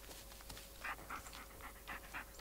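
A dog panting in the Blair Witch video game in a forest, quick rhythmic breathy pants repeating steadily, close and fairly quiet, with no voices over it.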